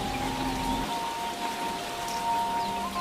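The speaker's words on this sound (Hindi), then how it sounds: "बारिश थमने का नाम ही नहीं ले रही है" Steady, dense rain noise fills the clip, a constant broadband hiss with faint tonal hum underneath and no voices.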